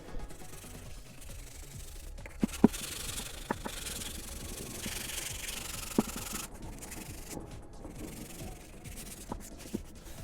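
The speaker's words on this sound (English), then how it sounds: "I don't want to sand too much because I want to make sure, basically this is PVC foam with a thin layer of PVC on each end of it." Hand sanding of Sintra PVC foam board, thin foam with a PVC skin on each face, for a Boba Fett jet pack prop: continuous close scratchy rubbing strokes broken by a few sharp taps and knocks.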